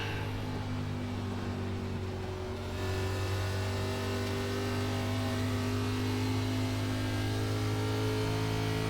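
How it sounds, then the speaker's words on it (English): Race car engine in the iRacing NASCAR Xfinity Series sim at Pocono Raceway, a loud, steady high-revving drone with strong sustained harmonics, holding near and constant throughout with a slight shift in tone after a few seconds. "Haven't heard that tone in the engine for a bit."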